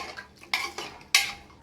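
Mutton curry is stirred in a pot with a metal spoon, producing a few sharp scraping clinks at uneven intervals, close and fairly loud against a quiet background.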